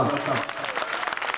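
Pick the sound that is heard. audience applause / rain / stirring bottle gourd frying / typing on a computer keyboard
audience applause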